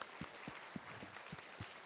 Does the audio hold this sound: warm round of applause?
yes